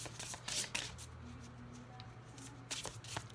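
A deck of cards is shuffled by hand during a spiritual card reading, giving soft, close riffling and shuffling bursts that are quiet and not accompanied by speech.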